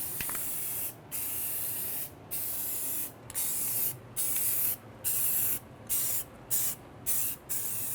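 Warmed paint sprays from an aerosol can onto a baseboard heater in a run of close, steady hissing bursts separated by brief gaps, the bursts getting shorter and quicker toward the end.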